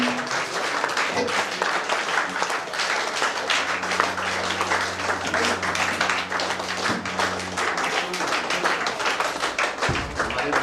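Audience applause welcoming the vice-chancellor of BNMU at a tree-planting event: steady, dense clapping fills the whole stretch at a moderate distance, with a low hum running underneath and no speech.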